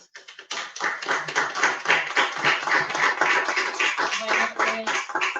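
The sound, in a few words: audience applause for a poet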